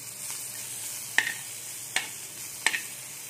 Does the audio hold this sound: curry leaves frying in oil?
yes